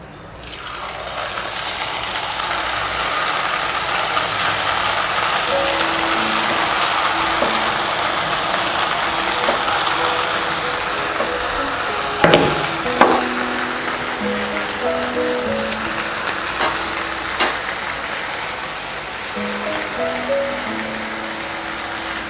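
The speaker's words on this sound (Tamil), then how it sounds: "இப்போ எண்ணெயில் பொரிச்சு எடுத்துடலாம்." Snacks made from leftover rice dough deep-frying in hot oil, a continuous loud hiss and sizzle with bubbling crackle throughout, plus a few louder clinks of utensils partway through.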